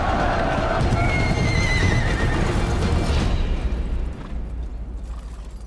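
Five mounted horsemen in a medieval Norman cavalry re-enactment charge forward, with loud neighing and whinnies over dense pounding hooves, the clatter easing slightly near the end.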